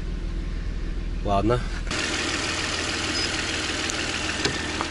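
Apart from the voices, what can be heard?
Audi A6 C6 petrol engine idling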